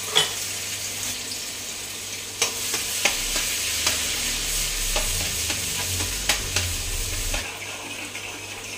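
Minced garlic and shallots sizzle steadily in a hot pan while being stir-fried, a soft continuous crackle with scattered clicks and scrapes of the utensil against the pan, fairly quiet and without talk.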